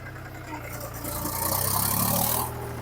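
A tractor loader's engine runs steadily at close range with a low, rattling drone that swells and strains for a second or so as the bucket pushes, then settles back to an idle-like hum.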